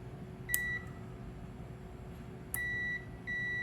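Two electronic buzzer beeps from a Raspberry Pi relay module, each starting with a sharp click, ring steady tones over a low background hum; the second ring is cut by a brief pause.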